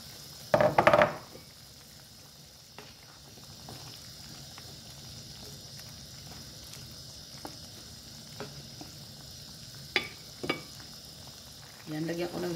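Carrots dropped into a hot pan of Baguio beans with soy sauce and water, starting with a loud clattering burst, then a steady low sizzle with occasional stir knocks and a fresh rush of sizzling at the end.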